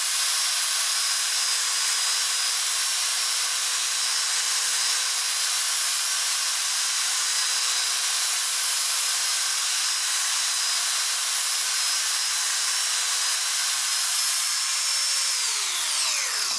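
A steady, high-pitched whine of a rotary tool grinding off metal parts on a homemade 2x72 belt grinder build runs continuously, then spins down at the end.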